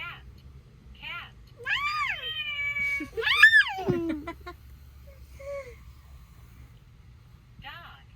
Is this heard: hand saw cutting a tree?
no